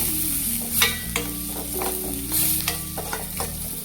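Turmeric and coriander powder are stirred into onions in a pan for a fenugreek and potato dish, giving a steady frying hiss with repeated spoon scrapes and taps against the pan.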